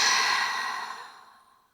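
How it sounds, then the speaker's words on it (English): A single deep exhale through an open mouth during a yoga breathing exercise, a breathy rush that starts strong and fades smoothly over under two seconds, close and alone. "Open the mouth, exhale."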